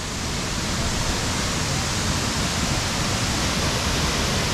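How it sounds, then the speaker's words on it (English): Zillie Falls waterfall in North Queensland, a steady, dense broadband roar of falling water, continuous and fairly loud with no pauses. "On our way down to Zillie Falls, we can hear it."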